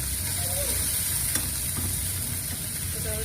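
Chili, cumin and ginger paste frying in overheated oil for a loti fish curry, a steady loud sizzle with faint stirring and a few light scrapes, no talking.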